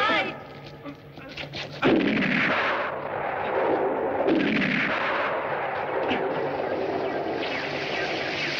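Heavy gunfire and booming blasts from a 1968 jungle adventure film, loud and continuous, with sweeping roars over a dense rumbling background and occasional shouted voices.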